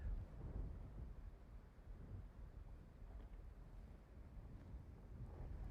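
Low, gusty wind buffets the microphone in a steady rumble during bass fishing in Florida, faint and uneven, with no voices.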